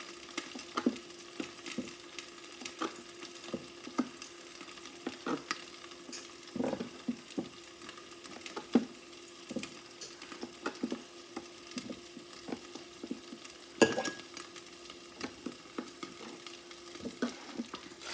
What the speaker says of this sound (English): I'm gonna give it a good stir because I hear it just a sizzling